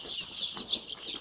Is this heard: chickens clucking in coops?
yes